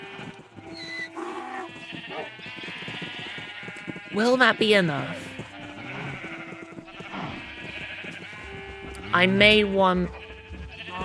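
Minecraft sheep bleat twice in the game, each a wavering, nasal cry standing out over steady background music while a player talks throughout.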